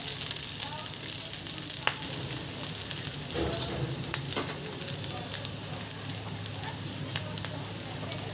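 Corn kernels and softened fried onions sizzle steadily in a pan while corn paratha filling is cooked, a constant close hiss with occasional stirring scrapes and no talk.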